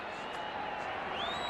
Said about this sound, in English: And you hear this crowd as they exhort their defense on.